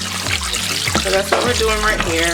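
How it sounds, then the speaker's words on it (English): Raw chicken is rinsed under a running kitchen tap, a steady splashing stream heard close, under someone talking. "We're just rinsing them off."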